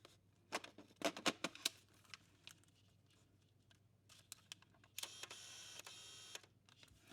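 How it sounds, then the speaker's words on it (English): A Nikon Df camera's autofocus gives faint, close mechanical clicks and short whirring bursts in small clusters, with quiet pauses between them. "I just take some autofocus sounds that you can hear its loudness."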